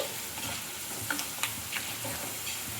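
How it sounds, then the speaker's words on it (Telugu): Sago pearls fry in hot oil with a steady, bright sizzle throughout, while a few sharp pops and crackles rise above it as more pearls drop in. "కొంచెం కొంచెం సగ్గుబియ్యాన్ని వేసుకుంటూ బాగా ఫ్రై చేసుకోవాలి"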